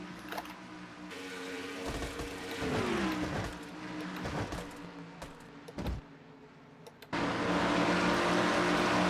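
Onboard engine of the number 77 race car in a racing video game at Nashville, droning steadily with pitch shifts as it shifts and accelerates, an abrupt louder roar near the end; no talking.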